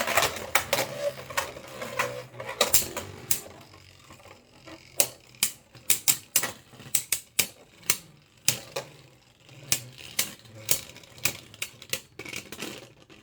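Beyblade Burst QuadDrive tops, including Guilty Luinor, battling in a stadium: a rapid run of sharp clicks and clacks from repeated collisions, dense at first and then spaced into distinct hits, with faint scraping between.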